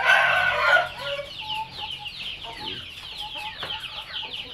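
Free-roaming Shamo hens clucking and chattering, a loud squawk at first and then a steady stream of soft, overlapping clucks close by, with faint murmuring in the background.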